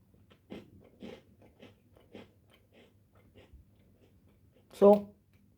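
A standard Parle-G biscuit is bitten with one loud, close crunch near the end, after a stretch of quieter chewing and mouth clicks.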